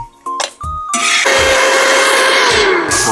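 A kitchen mixer grinder (mixie) whirs loudly as it grinds a curry paste with curry leaves, starting after a couple of short bursts and then running steadily with a high, droning whine.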